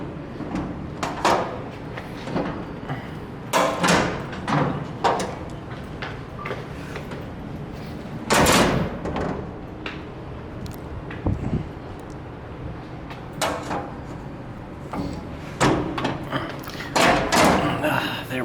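Latch and manual door of a vintage Montgomery hydraulic freight elevator in a university engineering building, clacking and thudding in a run of close metallic knocks, with one heavy thump midway and quieter taps between.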